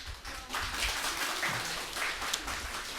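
A church congregation applauds during a Sunday service, steady mid-distance clapping from many hands that swells after a brief softer start and holds evenly.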